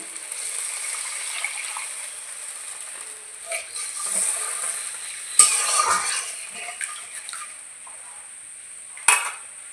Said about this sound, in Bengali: আলুগুলো দিয়ে আবার একটু কষিয়ে নিচ্ছি ভালো করে।